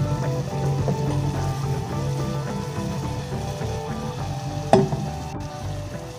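Sugar melts and bubbles in a pan on the stove, a steady close sizzle and simmer with one brief clink partway through.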